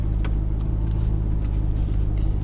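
A car engine idling low with a very light touch of throttle, a steady close rumble with only a faint rise in revs, heard from inside the vehicle during a driving lesson.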